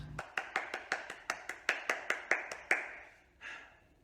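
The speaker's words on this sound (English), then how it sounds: "Applaud at the end of a movie." A single pair of hands claps steadily about a dozen times at a brisk, even pace, each clap crisp and close, then a softer final clap.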